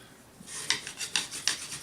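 A wooden bow drill spins quickly against a board with a bushing on top, giving a close, rhythmic rasping scrub. About four strong strokes follow a short quiet start.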